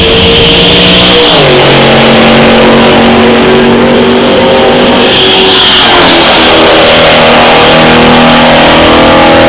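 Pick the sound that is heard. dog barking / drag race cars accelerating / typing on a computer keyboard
drag race cars accelerating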